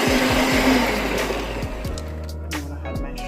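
An electric mixer creaming butter and egg for a Jamaican fruit cake, a close steady motor whir that shifts pitch as the speed changes, ending with a brief clatter.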